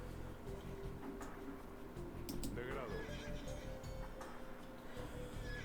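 Babieca, a horse from the royal stables of Seville in the Age of Empires II El Cid campaign, gives a rising, wavering whinny midway, set in the game's continuous background sound with someone talking throughout.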